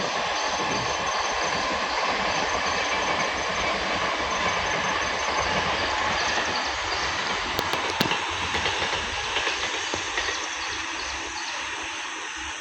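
A train passes on a rail line in Bangalore, a steady, loud, continuous rumble and rattle of wagons that fills the whole stretch with only slight swells, plus a few brief high squeals near the middle.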